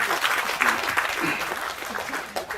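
An audience applauds with steady clapping for a couple of seconds, close and fairly loud, while a voice talks faintly over it.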